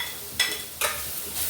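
Tomato stirred into onion, ginger, garlic and shallots in a pan, with two brief scraping sizzle bursts of a spatula over a quiet low background.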